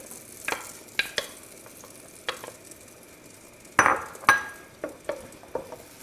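Onions sizzle in butter in a pan for penne alla vodka, with a soft steady frying hiss broken by a dozen sharp utensil clinks and scrapes against the pan at irregular intervals.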